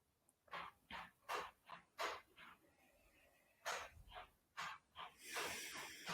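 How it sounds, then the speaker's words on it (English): Soft breaths drawn in during a guided meditation, heard as a rhythmic series of close, airy inhales and exhales with brief pauses and no talking. "Just breathing in"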